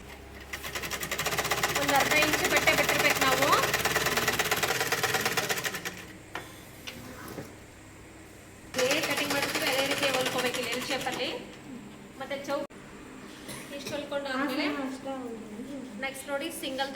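Two long, loud bursts of sewing machine stitching run along a palazzo pants seam, separated by a pause with fabric handling, and someone talks over and between the runs.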